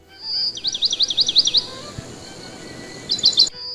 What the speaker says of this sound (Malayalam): നല്ല സൗണ്ടും കിളികളെ സൗണ്ട് അങ്ങനത്തെ നല്ല സൗണ്ടുകളൊക്കെ കേൾക്കാൻ തുടങ്ങി.